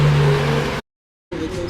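A jeepney passes close by on a busy street, its loud engine roaring with a strong low hum before cutting off abruptly for a moment, then more traffic noise resumes.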